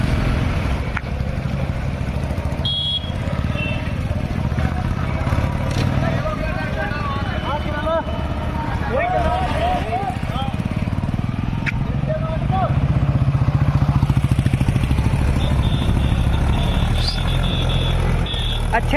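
A Mahindra 575 tractor hauling a heavy trailer of about 400 quintals of sugarcane labours on, its engine rumbling loudly and continuously nearby as it struggles to pull the load free.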